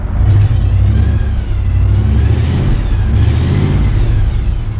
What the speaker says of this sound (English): does it rev up?